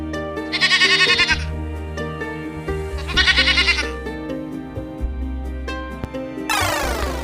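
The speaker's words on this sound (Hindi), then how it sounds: "G for goat." A goat bleats twice in loud, wavering bursts over a steady musical backing, with a short pause between the two calls and a different tonal sound rising at the end.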